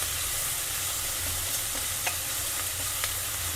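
Aloo methi sabzi of potato and fenugreek leaves frying in a pan, a low steady sizzle with a few faint ticks and pops, no voices.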